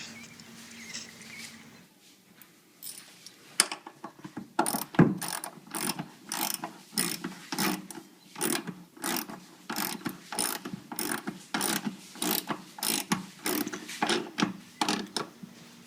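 A ratchet driving screws down to hold the motor in a Kenmore HE3t front load washer, its clicking pawl sounding in a steady rapid rhythm of repeated strokes, close and clear with no talk.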